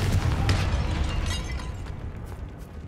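Confringo explosive spell blast in the Hogwarts Legacy video game, a loud burst with a booming low rumble that decays steadily over a few seconds, alone without talk.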